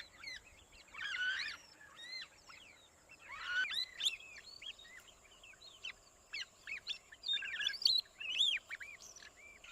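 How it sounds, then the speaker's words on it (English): Small bird calls near a tick-covered tapir, a scattered series of quick chirps and tweets in bursts, fairly close but soft against a quiet background. "The bird hops onto his broad back."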